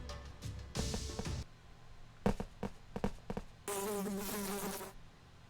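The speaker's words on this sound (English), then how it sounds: "It sounded like wings buzzing." Fly buzzing past the ear in the video game Death End re;Quest, several short buzzy bursts followed by a longer whining flutter of wings, close and fairly loud against a quiet background.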